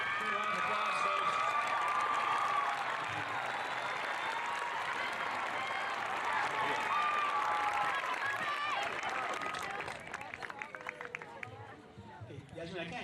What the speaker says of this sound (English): 2 rounds of applause, folks.